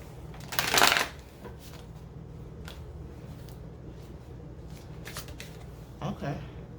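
A deck of Crow Tarot cards is shuffled in one brisk, crisp riffle near the start, with a quieter flick of cards later, amid faint room noise.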